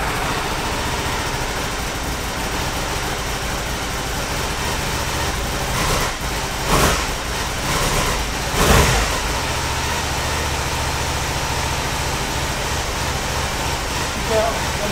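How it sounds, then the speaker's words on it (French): Motorcycle engine running after a restart, a steady mid-pitched idle hum throughout with a couple of brief louder bursts partway through, close by. "Super, la moto redémarre."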